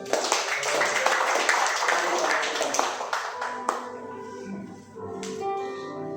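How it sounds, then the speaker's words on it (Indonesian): Congregation applauding during a Sunday worship service at a church in Tanjung Priok, a dense, steady roar of many hands under a swell of voices and faint music, fading briefly near the end before picking up again. "Tepuk tangan yang dahsyat"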